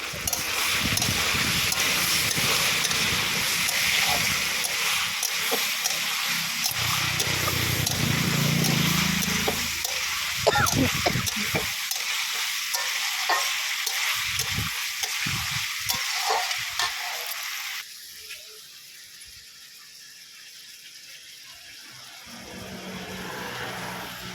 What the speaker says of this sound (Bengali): আমি ততক্ষণে চাপিয়ে রেখেছি কি বাঁধাকপিটা আলুটা পুড়ে যাবে একটু নেড়ে নিই